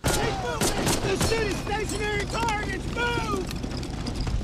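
Battle gunfire from a World War II TV drama scene, distant scattered shots and bursts sitting low under excited voices reacting over the top.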